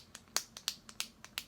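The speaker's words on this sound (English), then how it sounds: "It kind of takes a while for the pen to get loaded with product. You kind of have to sit there because it's got this clicker on the back." The clicker on the back of an e.l.f. concealer pen is pressed repeatedly, about seven small, crisp plastic clicks in a quick uneven rhythm, close and fairly quiet.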